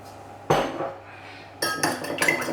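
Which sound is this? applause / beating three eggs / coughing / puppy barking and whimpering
beating three eggs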